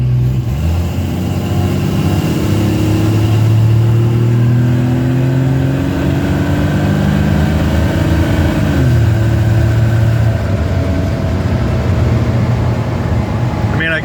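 A Pontiac straight six fitted with a Weber two-barrel carburetor pulls hard under load, its engine note rising steadily in pitch, dropping briefly and then climbing again, loud and close in the cabin, droning throughout.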